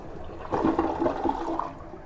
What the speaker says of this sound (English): Let's check our flush.